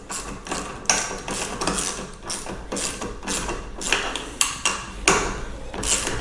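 Two 13 mm wrenches tightening a caster bolt and lock nut on a Pride Mobility Jazzy Select power chair, with close metallic ratcheting clicks and occasional sharper knocks in an uneven rhythm.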